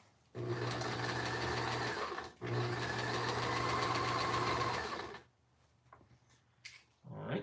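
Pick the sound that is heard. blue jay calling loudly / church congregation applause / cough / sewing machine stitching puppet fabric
sewing machine stitching puppet fabric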